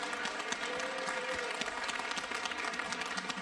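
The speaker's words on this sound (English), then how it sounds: "so big round of applause." Steady, dense audience applause at a mandolin orchestra concert, many hands clapping evenly and fairly loud from start to finish with no voices on top.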